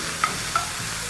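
Teriyaki beef stir fry with noodles toasting in a hot pan: a loud, dense, continuous sizzle with a couple of brief clinks, close up and with no voices.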